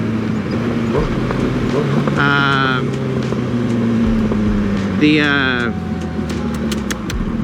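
A 2008 Suzuki Hayabusa on the road under light throttle, with a steady engine drone and wind rush plus brief rising whines from revving, while a rider talks over it.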